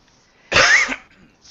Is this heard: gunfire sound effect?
no